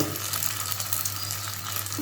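Paneer balls fry in hot oil, giving a steady, close sizzling hiss that holds an even level for the whole stretch with no voices.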